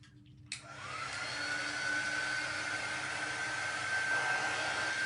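A hair dryer starts with a click and runs at a steady, loud whoosh, drying a small handmade campfire-themed craft piece up close, with no talking.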